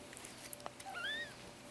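A very young kitten, its eyes newly opened, gives one thin, high, rising-and-falling meow, faint and close, preceded by a few small clicks and rustles in a quiet room.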